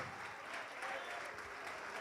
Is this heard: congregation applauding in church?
yes